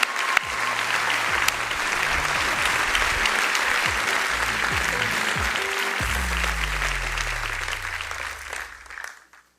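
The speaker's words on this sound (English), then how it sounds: "You deserve a big applause." An audience at a BMW CEO's keynote speech at the CES auto show claps loudly and steadily for several seconds before the applause tapers off and fades out.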